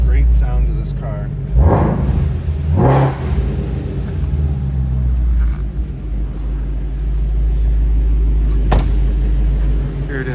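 A 2016 Ford Mustang Shelby GT350 running, a heavy low rumble with two quick revs early on, then a steady idle, loud and close.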